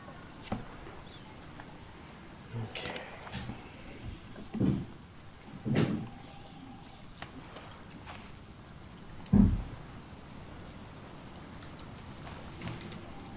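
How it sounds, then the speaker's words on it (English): Rain in the survival game Stranded Deep falls as a faint, steady patter under a soft wash, with several louder thuds and splashes at irregular intervals. "And it's raining."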